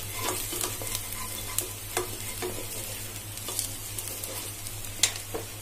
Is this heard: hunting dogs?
no